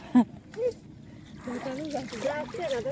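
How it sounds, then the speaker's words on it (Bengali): Water splashes and sloshes in a village pond as soaked lentils are washed by hand, mostly under several people talking close by. "সবাই ডালের বড়ি ভিজা ধুচ্ছি"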